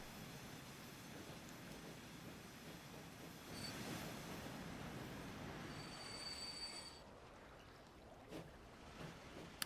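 Trains running in the game Transport Fever 2, with a steady rolling rumble and rail noise, high wheel squeals rising over it midway, then quieter clicks near the end. No one talks.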